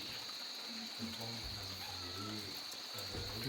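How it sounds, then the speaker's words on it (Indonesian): Crickets chirp at night in a rural Banten village, a steady high-pitched trill running continuously in the background, fairly faint, while low voices speak intermittently underneath. "Suara alam, suara jangkrik"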